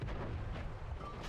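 A tank gun fires a high-explosive shell in a video game, producing a dense, booming roar that fills the short moment with low rumble and no clear decay.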